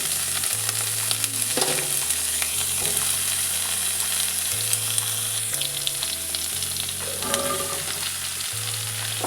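Raw green banana fries in hot oil with nigella and radhuni seeds, a loud, continuous close-up sizzle with occasional stirring clatter and faint low music running underneath.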